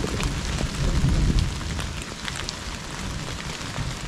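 Rain falls on a mountain trail near Sendang Derajat on Mount Lawu, on the Cemoro Sewu route, as a steady outdoor hiss with a heavier, rumbling stretch near the start before it settles into an even patter.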